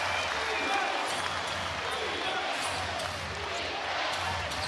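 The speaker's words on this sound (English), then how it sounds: "Listen to this crowd." Crowd noise swells inside a basketball arena during an NBL game between the Perth Wildcats and Illawarra Hawks, a broad, sustained roar of fans heard at a distance under a commentator's voice, with faint court thuds mixed in.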